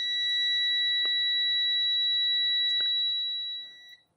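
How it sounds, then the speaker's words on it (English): A steady, high multimeter continuity beep rings continuously for a few seconds as the leads touch, clean and piercing, then fades out, with a couple of faint clicks underneath. "if we touch the leads together, we will get a beep"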